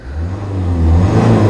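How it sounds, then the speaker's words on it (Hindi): Cabin noise inside a 2014 Ford EcoSport diesel: a steady low engine drone and road hum that swells slightly as the car gathers speed, with no talking. "तो कैबिन नॉइज़ इतनी नहीं है गाड़ी के अंदर"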